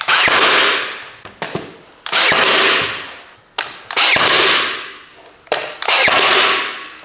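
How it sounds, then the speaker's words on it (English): A nail gun fires nails through a board into plasterboard during a 1970s lounge renovation, loud sharp bangs in quick succession with brief gaps, several shots each followed by a ringing decay. "And now with the nailer, I'll fire some nails straight through into that plasterboard just to keep it there."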